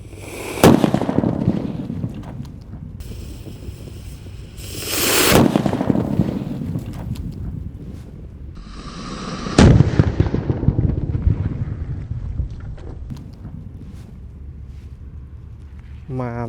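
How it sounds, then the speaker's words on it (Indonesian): Paper-bundle firecrackers buried in the ground go off in three loud, booming blasts a few seconds apart, each trailing a rumbling decay, with a steady background hiss between bursts. "Mercon buntelan kertas di dalam tanah."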